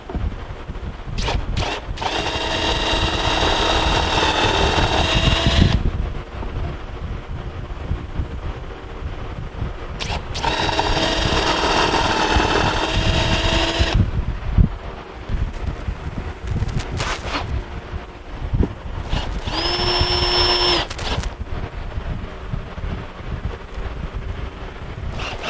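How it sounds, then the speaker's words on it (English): A power drill pre-drills screw holes in a wooden bench, running in three separate whirring bursts of a few seconds each. Quieter gaps between them hold faint handling noise. "And using the same setup, we'll pre-drill these"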